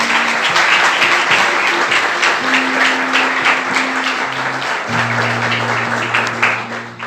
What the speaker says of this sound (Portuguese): Vamos aplaudir o Senhor com alegria.